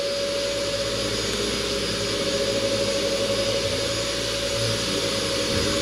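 A steady, loud electric machine whine drones on without a break, a rotary car polisher with a wool pad running continuously up close on a car hood.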